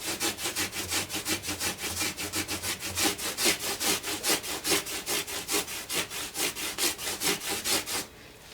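Fine-grit abrasive rubbed back and forth along the frets of a Gibson SJ-150 acoustic guitar, making a steady rhythmic scraping stroke roughly every quarter second, close and continuous, then stopping near the end.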